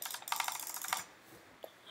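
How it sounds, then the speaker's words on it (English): A computer mouse is jitter-clicked in a fast, buzzing run of close, sharp clicks for about a second, then stops, leaving a quiet room with one stray click. "So you're literally just vibrating your hand up and down the mouse pretty fast."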